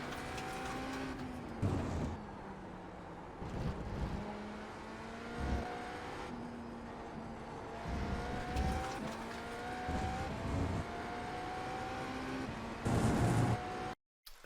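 Race car engine in the iRacing sim at The Bend, a GTP prototype held at full speed through turns 14 to 16, loud and steady with rising and falling pitch sweeps as gears shift, plus brief tire scrub bursts.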